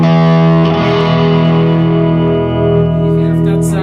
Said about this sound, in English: Goes into a full range boost. Adds a bit of grid.